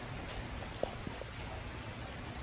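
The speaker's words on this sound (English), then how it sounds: "but it's raining now" Rain falls steadily outside a tiny house under construction, a soft, even wash of patter with a couple of faint nearby drips, quiet and unaccompanied by voices.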